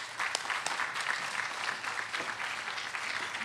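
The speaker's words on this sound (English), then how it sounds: "We have the applause." Audience applause at an evening lecture by Carl Hiaasen: steady, dense clapping from a sizable crowd fills the room at a constant level throughout, with no voices over it.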